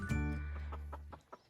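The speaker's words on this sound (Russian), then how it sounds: "Петушок ливенский ситцевый у меня гуляет" A Livensky chintz rooster walking about a yard gives a short run of clucks: a louder opening call followed by a few quick, softer clucks, close by and with no talking.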